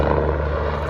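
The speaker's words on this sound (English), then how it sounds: "Fitzgerald is one of the unique pilots that puts a helicopter through aerobatic maneuvers." A helicopter flying aerobatic maneuvers at the Central Coast Airshow 2022, Santa Maria Airport, roars loudly and steadily with a throbbing low rotor beat for under a second.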